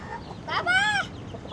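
A single chicken gives a short, close cluck-like call with a rising-falling tone against light background noise.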